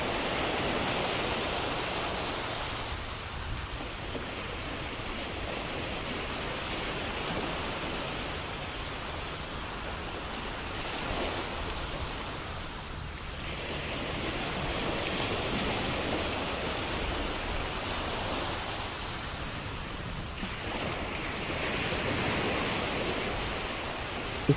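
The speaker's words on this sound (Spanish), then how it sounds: "Escuchar el sonido de las olas crea un efecto inmediato en el cerebro." Ocean waves break steadily on a shore, a dense continuous roar of surf that swells and eases in slow cycles, with no voices.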